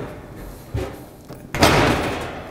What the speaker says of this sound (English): we're going to raise the oven door up, which releases it